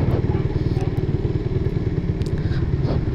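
A motorcycle engine runs loud and close with a rapid, even pulsing idle that stays steady throughout, without any voices.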